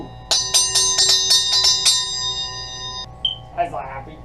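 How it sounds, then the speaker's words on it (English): A zill bell rings for the first time, a rapid run of bright metallic strikes over about two seconds whose shimmering tone lingers before fading, then a delighted voice reacts. "First sound of the Zill bell."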